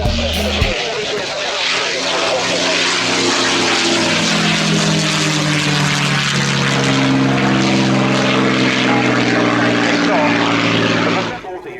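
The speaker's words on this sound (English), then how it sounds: "B-17 Sally B flying in salute to the US Army Air Forces of World War II" A Boeing B-17 bomber, Sally B, flies past at the Royal International Air Tattoo, its multiple piston-driven propeller engines droning loudly and steadily with a throbbing, layered hum, while an announcer talks over the display.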